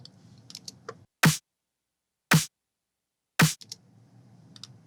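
Three separate disco one-shot snare hits, each with a clap just ahead of it. They are loud, tight and punchy, spaced about a second apart, with faint background noise between them.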